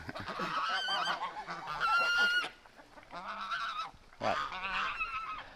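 A Canada goose on a farm in winter honks loudly and close in repeated harsh bursts with short gaps, and a voice briefly speaks between the calls.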